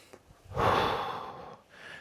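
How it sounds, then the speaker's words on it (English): A single heavy breath, a forceful exhale lasting about a second, comes up close during bodyweight squats in a home workout, followed by a fainter breath. "Inhale as you sit, exhale as you stand."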